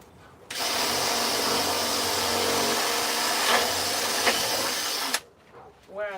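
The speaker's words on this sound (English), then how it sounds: "So I need to drill a hole" A power drill bores holes into the body of a van being converted into a tiny home, a loud continuous whine lasting about five seconds before stopping abruptly, followed by a moment of quieter sound.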